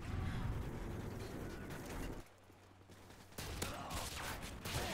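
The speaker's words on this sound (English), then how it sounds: "my shotgun actually got a kill there" Shotgun fire in Modern Warfare 2 (2009), bursts of sharp gunfire with sudden jumps in loudness and a quieter gap midway, set against a busy game mix with faint voice chatter.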